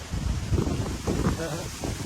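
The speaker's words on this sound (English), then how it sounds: "It's really windy though, I gotta tell you." Gusty wind buffets the microphone in low, uneven rumbles, with faint muffled voice-like sounds underneath.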